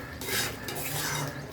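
Spice paste being stirred and fried in a pan for a Bengali doi katla (yogurt rohu fish) dish, with a steady low sizzle under repeated scraping of a utensil against the pan, close and fairly even throughout.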